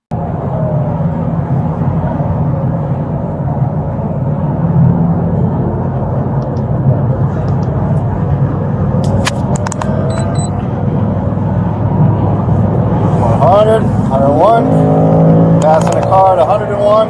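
A police car accelerating hard during a high-speed traffic pursuit, its engine droning steadily and loud, with rising revs near the end, while a person talks over it.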